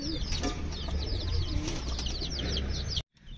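Pet pigeons in a backyard coop coo softly and repeatedly, with faint wing flaps and small mechanical knocks, before the sound cuts off abruptly near the end.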